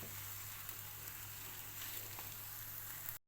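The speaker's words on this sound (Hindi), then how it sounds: "इनको मिक्स करके इतना कुक करूँगी कि एक थिक सा पेस्ट बन जाए और इसका मॉइस्चर सारा ख़त्म हो जाए।" Grated potatoes cook in a pan into a thick paste, giving a steady, even sizzle and crackle from start to finish with no talk.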